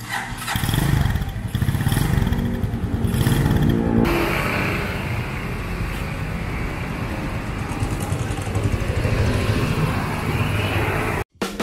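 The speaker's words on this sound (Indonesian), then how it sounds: "sekarang kita akan test ride motor Cleveland Hayes ini oleh rekan gue yang bernama Bang Jack." A Cleveland CycleWerks Heist chopper motorcycle runs loud and close on a test ride, its engine droning and revving with a shift in tone partway through, then cutting out near the end.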